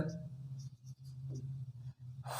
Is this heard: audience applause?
no